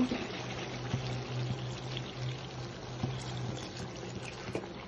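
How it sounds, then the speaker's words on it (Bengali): Water pours steadily into a pot, a continuous soft splashing wash with a low hum underneath and a few faint clinks, no talking. "এখন আমি ঝোলের পানি দিয়ে দেব।"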